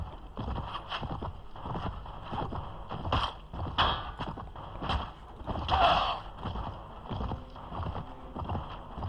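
Horse hooves clop in rhythmic, galloping beats during a mounted battle in the Mount & Blade Prophesy of Pendor mod, with faint whinnies and game ambience underneath and no talking.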